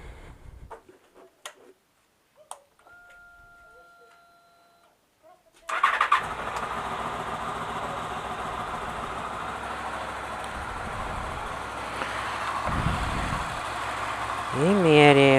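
A Honda VFR 800 motorcycle cranks and fires after a few quiet clicks and tool sounds, then settles into a loud, steady idle that swells slightly near the end.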